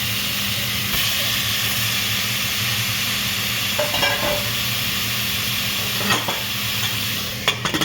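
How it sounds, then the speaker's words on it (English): Chicken with turmeric and salt fries in a pan, a steady sizzling hiss filling the whole stretch, with a few faint clinks and stirring scrapes near the end. "I'll just let it sizzle for some time"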